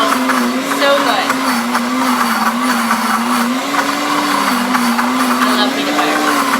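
Blender whirring through a smoothie with peanut butter, a loud steady motor hum that wavers slightly in pitch as the blades churn, running continuously from start to finish.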